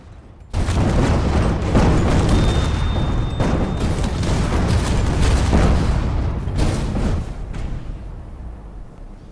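A vehicle structure in the video game Space Engineers collapses, producing a sustained loud rumbling crash with heavy booming impacts that lasts several seconds, then fades to a quieter tail.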